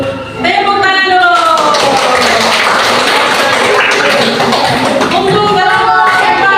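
A class of students breaks into loud, sustained applause in a classroom, many hands clapping together at close range for several seconds, with voices chattering over the clapping.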